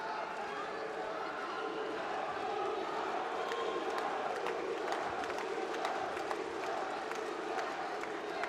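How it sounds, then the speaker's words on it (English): Judo arena crowd at a world championship elimination bout cheers and applauds in a steady, dense roar with scattered claps and shouts, spread wide and continuous throughout. "Well, the crowd are starting to erupt and applaud both these athletes."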